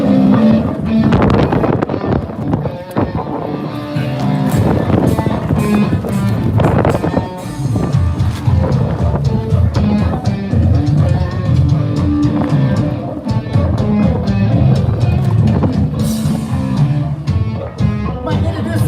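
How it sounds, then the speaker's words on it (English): Strong outdoor wind buffeting the microphone at a rally and concert, loud continuous rumbling gusts that dominate throughout, with speech partly buried underneath. "It's so windy, it just blew my chairs over."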